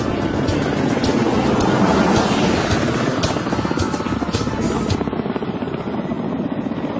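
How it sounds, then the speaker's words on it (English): A Ka-25 anti-submarine helicopter lifts off from the deck of an aircraft-carrying cruiser, its rotor thudding and turbine whining loudly and steadily throughout, the sound slightly thinning toward the end. "Ka-25 submarine Hunter starts off from the deck of the aircraft-carrying cruiser to perform a demo flight"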